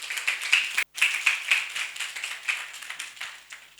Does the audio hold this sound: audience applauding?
yes